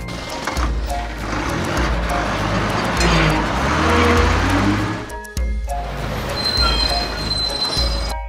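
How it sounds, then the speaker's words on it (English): A London bus in a cartoon rolls along with a loud, continuous engine rumble and busy road hiss, a short dip near the end before the motor resumes. "London bus."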